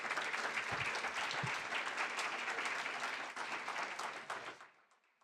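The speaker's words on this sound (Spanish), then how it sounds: "Les pido un fuerte aplauso para el doctor Eric Tridas" An audience applauding Dr. Eric Tridas at a talk on dyslexia in Monterrey, dense sustained clapping from a crowd that fades out over the last second.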